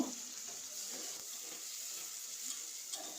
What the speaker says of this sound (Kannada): ಇವಾಗ ಆನಿಯನ್ ಮತ್ತು ಟೊಮೆಟೊನ ಚೆನ್ನಾಗಿ ಫ್ರೈ ಮಾಡ್ಕೊಳ್ಬೇಕು